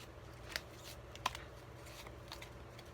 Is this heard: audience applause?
no